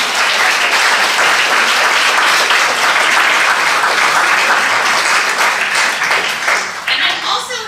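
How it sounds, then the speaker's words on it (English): Loud, dense applause from a colloquium audience for a panel, continuous clapping close up that thins and tapers off near the end, with some voices faintly under it. "let's give them another round of applause"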